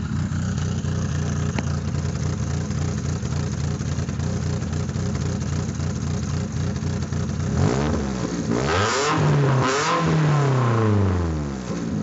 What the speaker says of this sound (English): Just gonna do a little exhaust shot here.